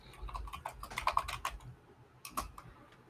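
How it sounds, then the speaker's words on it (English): Someone types on a computer keyboard nearby, a quick irregular run of light key clicks, then a pause and a short final burst, with no talking. "somebody's typing. I don't know who's typing"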